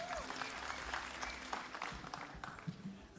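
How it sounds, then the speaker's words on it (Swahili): A crowd at a Kenyan political rally claps steadily for a governor from Laikipia. The applause is dense and sustained, set back at a distance, with a bit of murmuring mixed in. "Tumpigieni makofi"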